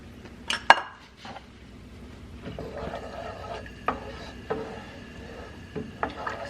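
Rice and tomato sauce stirred in a pot over medium heat for Mexican rice, a spoon scraping and clinking against the pot in scattered knocks, with a couple of sharper clanks near the start.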